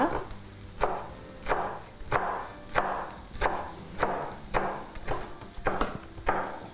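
A knife chops fresh parsley and coriander on a board in a steady rhythm. About nine sharp, close chops come roughly every seven-tenths of a second, each followed by a short rustle, with no talking.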